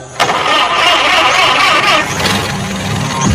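A car engine cranks and catches once the ignition is switched on after loose wires are reconnected, then settles into a close, loud, steady idle.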